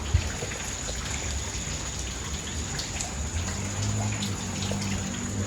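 Steady, dense rain pours down in a village, a constant near hiss of drops striking surfaces that holds evenly throughout with no voices.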